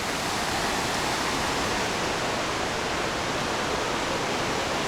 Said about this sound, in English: This is where all the water comes from.